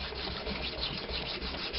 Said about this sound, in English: So when I run this nut back and forth, I can make it thinner.